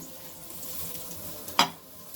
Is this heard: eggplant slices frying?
yes